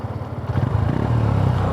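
A 125cc motorcycle engine at a drag race, either a 2026 Hero Xtreme 125R or a 2026 Honda CB Hornet 125, idles close by with a steady low pulsing that swells slightly as it is revved.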